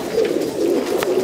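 A pigeon coos in a steady, low, throaty murmur that runs close and loud through the short stretch, with no talking over it.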